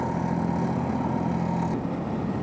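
Tractor engine running on an open road through fields outside Matera, heading toward Policoro, a steady low droning hum that holds close and even throughout.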